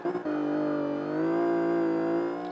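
In Forza Motorsport 5, a race car engine revs in first gear on the Catalunya National circuit, holding a steady, loud, buzzing drone that climbs slightly in pitch.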